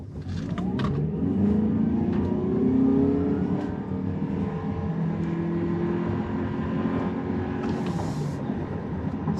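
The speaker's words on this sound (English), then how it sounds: "One last 0 to 60 test," A 2023 Toyota Prius Prime XSE accelerates hard from 0 to 60 mph in hybrid mode, its engine and electric motor droning steadily with rising tones, loud and continuous with no talking.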